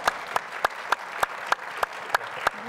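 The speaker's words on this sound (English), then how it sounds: "give him a round of applause" A crowd at a Meet the Artist gathering gives a round of applause, heard as a run of sharp, evenly spaced claps at moderate volume with no talking over them.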